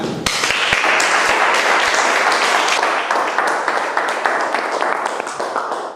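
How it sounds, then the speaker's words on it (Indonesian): A standing audience at a business-opportunity seminar applauds to welcome the speaker, starting with a few sharp individual claps before swelling into sustained, loud applause that tapers slightly at the end. "kita sambut beliau dengan tepuk tangan."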